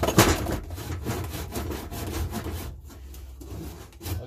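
A small hand saw cutting mountain laurel wood for a gouge handle, heard as close, rhythmic rasping strokes repeated at a steady pace for the whole stretch, with no talking.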